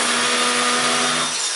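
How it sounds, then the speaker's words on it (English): A hammer drill bores into a concrete wall, grinding loudly and steadily with a continuous high whine, then easing slightly near the end. "I'll need to put the hammer on for this because it's concrete."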